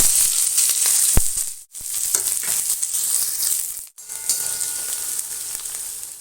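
Onions tossed into hot oil already crackling with mustard seeds and urad dal, a loud, close, bright sizzle that briefly drops out twice before surging back.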